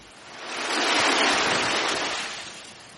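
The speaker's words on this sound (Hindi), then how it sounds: "घर में पानी भर गया" A cartoon sound effect of water flooding into a house: a loud broad rushing wash that swells up and fades away over a few seconds, with no voices.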